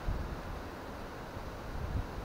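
Strong wind by the Udy River in Ukraine buffets the microphone with a steady low rumble and gusty roar, no voices present.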